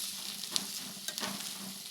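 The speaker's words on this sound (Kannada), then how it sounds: "ಶುಂಠಿ ಸ್ವಲ್ಪನೇ ಸ್ವಲ್ಪ ಹಾಕ್ತಾಯಿದ್ದೀನಿ ಈಗ ನೆಕ್ಸ್ಟ್ ಒಂಚೂರು ಫ್ರೈ ಮಾಡೋಣ ಇದಾಗೆ" Grated ginger frying in a pan, a steady close hiss of sizzling oil with a few small pops and stirring scrapes, no voices.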